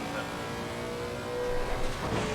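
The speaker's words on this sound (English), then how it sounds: "listen to the sweet sound of this Lexus" Lexus race car engine in Assetto Corsa Competizione at Kyalami, a steady loud mechanical drone with harmonic whine that swells slightly toward the end, heard alone without talk.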